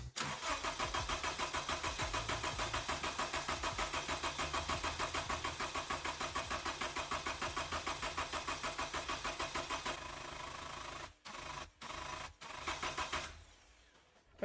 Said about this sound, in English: I'm gonna go ahead and run and turn over the engine